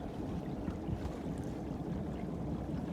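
A boat idles along at about four knots in light following seas off Alaska, a continuous low engine drone mixed with wind and water wash, steady and close throughout.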